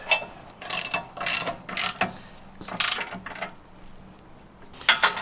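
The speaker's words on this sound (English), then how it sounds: "We're using a 17mm socket and a 16mm box wrench to tighten these up." Ratcheting socket wrench tightening front bumper bolts on a Jeep JL Wrangler, using a 17mm socket: several close, loud bursts of rapid ratchet clicks separated by short pauses.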